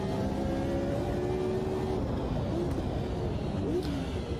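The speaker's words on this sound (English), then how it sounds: "under braking in this car, we still always have to give the little throttle kick to sync the gearbox and the engine RPM" Engine revving from a race car in the Automobilista 2 racing game, a steady drone with quick throttle blips on downshifts under braking, rising and falling in pitch.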